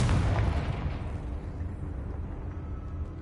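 A Confringo blasting spell goes off in Hogwarts Legacy, a single loud, deep boom that starts at full force and then rumbles and fades away without any voices.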